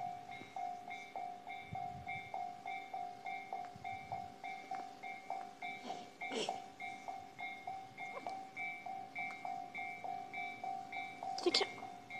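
A train rumbles past a railway level crossing in Kasukabe, Japan, with rhythmic clickety-clack of wheels on the rails while the crossing bell dings steadily and evenly throughout.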